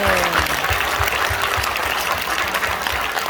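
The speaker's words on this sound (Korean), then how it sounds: "박수 쳐 박수" Church congregation applauding during a sermon, a dense steady wash of clapping filling the whole stretch at close range, with a faint voice trailing off at the start.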